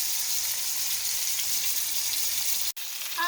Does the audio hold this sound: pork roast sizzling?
yes